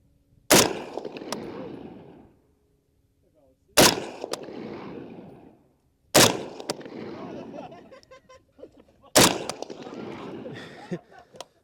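An HK G3 rifle fires four single rounds a few seconds apart, each a loud sharp crack with a rumbling tail outdoors, close by, with no talking between shots.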